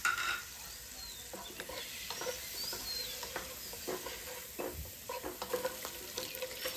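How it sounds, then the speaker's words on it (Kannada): Boiled eggs fry in oil with turmeric, chili powder and salt, giving a faint, continuous sizzle with soft scraping and stirring taps scattered throughout, no speech. "ಹಾಗೆಯೇ ಸ್ವಲ್ಪ ಅರಿಶಿನ ಪುಡಿನೂ, ಸ್ವಲ್ಪ ಖಾರದ ಪುಡಿ, ಸ್ವಲ್ಪ ಉಪ್ಪನ್ನು ಹಾಕಿ ನಾನಿಲ್ಲಿ ಬೇಯಿಸಿರೋ ಮೊಟ್ಟೆನ ಸ್ವಲ್ಪ ಇದರಲ್ಲಿ ಚೆನ್ನಾಗಿ ಫ್ರೈ ಮಾಡ್ಕೋತೀನಿ."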